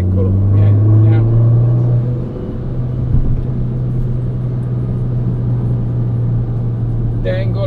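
A Peugeot 208 GTi engine is heard from inside the car on a road drive, at first a loud low drone under an excited voice, then easing off after a gear change and settling into a steady rumble.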